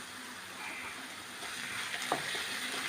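Curry leaves and salt frying in a pan with onions for a Kerala duck egg curry, a steady moderate hiss of sizzling oil with a brief clink near the end.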